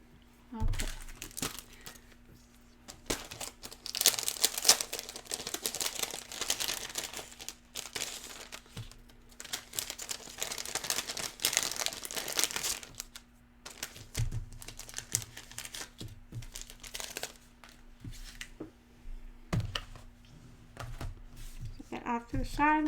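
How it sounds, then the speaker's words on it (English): Sheets of paper are shifted aside and crinkled on a craft table, with repeated rustling and crumpling bursts close by, loudest mid-clip, mixed with occasional speech. "I'm getting my paper out of the way here."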